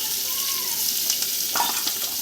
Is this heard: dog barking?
no